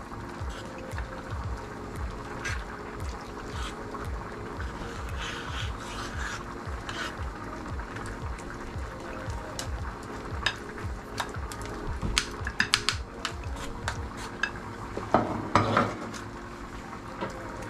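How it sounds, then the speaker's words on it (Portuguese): Flour and water being stirred into a thin batter for fried hot roll, a steady close scraping and swishing in the bowl with light clinks of utensil on dish, growing louder near the end. "Nós vamos jogando água e vamos misturando até virar um caldinho aqui."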